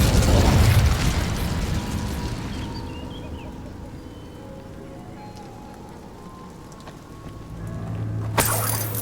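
The Incendio fire spell is cast in the video game Hogwarts Legacy, a loud whooshing burst of flame that fades into crackling ambience, with another sharp burst near the end.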